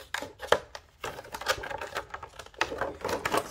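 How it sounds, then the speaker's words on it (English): Material for an eyeglass case is cut in short, irregular crunching clicks that come in uneven bursts, close by and fairly quiet. "this sometimes fights back when you try to cut it"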